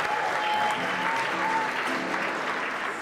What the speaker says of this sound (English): please do give him a huge round of applause